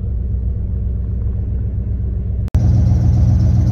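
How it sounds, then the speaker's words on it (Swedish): A deep, steady V8 engine rumble idles close by, briefly cutting out before resuming with a slightly brighter, louder tone. "Så hör vi ju V8:ans muller."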